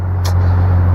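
An old Jeep's engine runs at a steady idle. Its low, constant hum is close and loud, with a brief hiss partway through.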